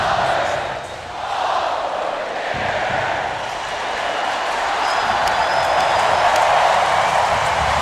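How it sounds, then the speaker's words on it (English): Stadium crowd at a Florida Gators home football game against the Tennessee Volunteers, a steady roar of cheering that swells and holds across the whole stretch, broad and distant-sounding, with no clear talk. "Getting the crowd fired up."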